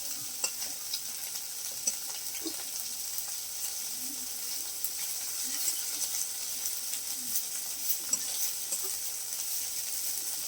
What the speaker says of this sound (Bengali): মাছ ভাজা হয়ে গেছে বন্ধুরা